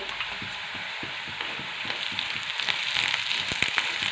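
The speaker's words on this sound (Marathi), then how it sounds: "आता खोबऱ्याचं वाटण छान लाल रंगावरती आपल्याला परतून घ्यायचं आहे" Ground coconut paste with coriander fries in oil in a pan, a constant close hiss with occasional soft crackles and the scrape of a stirring spoon.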